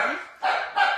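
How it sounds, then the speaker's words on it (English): A puppy yaps indoors in a quick run of three sharp, high barks, close and fairly loud, with no voices over them. "Sorry for the barking."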